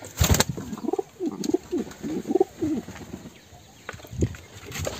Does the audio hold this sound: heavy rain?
no